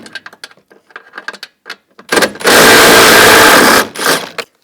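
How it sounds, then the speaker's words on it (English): A socket wrench works bolts out of a Chevrolet Equinox door during a 2010-2017 Equinox door actuator job: a string of quick ratcheting clicks, then a loud sustained buzzing run of about two seconds, close and alone. "Now on the sides, we're going to take these bolts out, use a 13mm socket."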